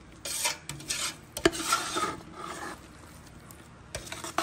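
Rice cooking with greens and pork in a pot, stirred with a utensil: irregular scraping and rubbing strokes against the pot, a few sharper knocks, and a softer stretch in the middle.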